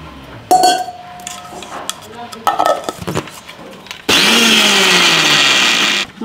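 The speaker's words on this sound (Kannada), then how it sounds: "ಈಗ ಇದನ್ನು ಸ್ಮೂತಾಗಿ ರುಬ್ಕೊಳ್ಳೋಣ." A kitchen mixer grinder blends garlic, coriander leaves and water smooth: a few clinks and clatters of the jar come first, then a loud, steady whirring roar runs for about two seconds before cutting off.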